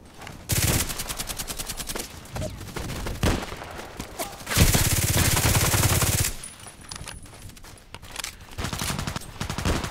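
Loud DT SRS sniper rifle shots from the video game Contract Wars crack out several times, separated by short gaps and interspersed with lingering echoing blasts.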